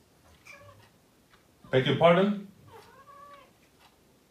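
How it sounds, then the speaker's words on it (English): A pet cat meows indoors, with a couple of faint mews followed by one loud, drawn-out meow and then a softer trailing call, while a person speaks briefly. "That is our cat again."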